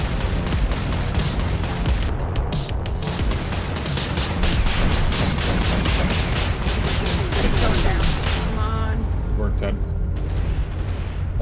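Gunfire in a shooter video game, loud rapid repeated shots in a long dense burst, continuing over game noise before a short lull and a few more shots.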